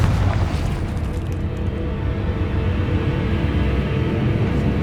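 Confringo fire-spell explosion in Hogwarts Legacy: a dense, rumbling boom that fills the whole stretch with a steady, loud low roar and no distinct separate bursts.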